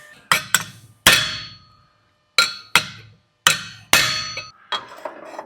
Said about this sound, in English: I'm going to go hit this over on the vise. That was loud